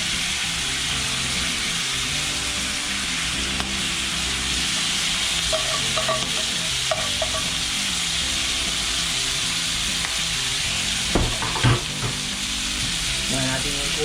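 Sauce poured onto sizzling squid adobo sets off a loud, continuous hiss and crackle on a hot plate, with a few clinks and bubbling spurts near the end.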